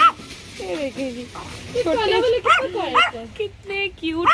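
A large dog barks a few times in a pet shop, with small dogs yipping and whimpering nearby while someone talks over them.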